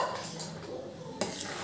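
Khichdi being stirred in a pot, brief scraping of a spoon with a few light metallic knocks, close and moderately loud, with no one talking.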